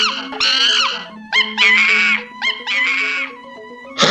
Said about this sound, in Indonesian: Kera itu pun berteriak-teriak ketakutan.